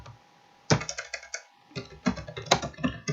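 Keys clatter on a computer keyboard as an email message is typed, short bursts of close, crisp taps after a brief pause, with quiet gaps between runs.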